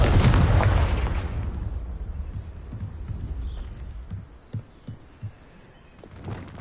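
A Confringo blasting spell in the video game Hogwarts Legacy bursts with one loud explosive blast that rumbles and decays over a couple of seconds, followed by several faint soft thumps.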